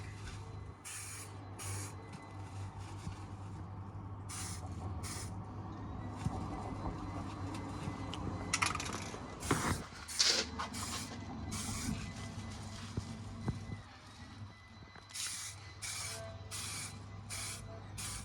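Spray rattle can painting the body of a Harley Benton DIY guitar kit, giving repeated short hissing bursts close by over a steady low background hum.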